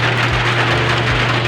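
Heavy rain pours steadily on an overcast day, a continuous dense hiss of falling water with no breaks, loud and close, with a low hum underneath and no talking.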